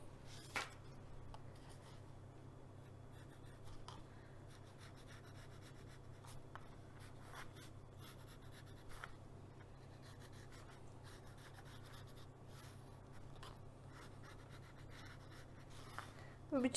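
A pencil is drawn along a ruler across corrugated cardboard, making soft, continuous scratching and rubbing strokes over a steady low hum, close and faint throughout.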